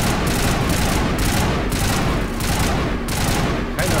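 Rapid sustained gunfire from weapons in the video game Mass Effect 1 Legendary Edition, dense overlapping bursts of shots rolling on without pause, loud and close throughout with booming low rumble.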